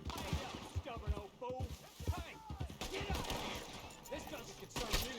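A rapid volley of gunshots crackles through a Red Dead Redemption 2 game scene, bursts of sharp reports scattered over a few seconds, fairly quiet, with people talking over the shooting.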